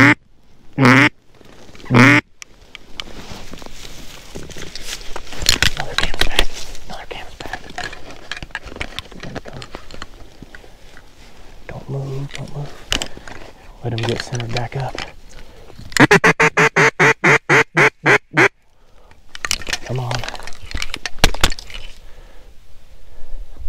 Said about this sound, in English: Here's a single duck.